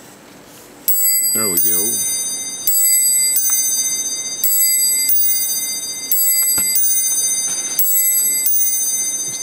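An Imperial mantel clock strikes a repeated bell-like chime, loud and close, with evenly spaced ringing strokes that sustain and overlap; a person speaks briefly near the start.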